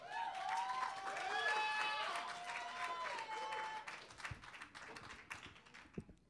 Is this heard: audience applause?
yes